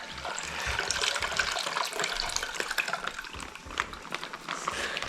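Curing brine from a ham pours off in a continuous splashing, gurgling stream, close and steady throughout with slight fluctuations, no voice over it.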